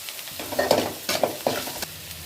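Onions and green chillies sizzle in a pan of hot oil for potato masala bonda, while a spatula stirs them in several quick scraping strokes. The frying is close and moderately loud, with no talking.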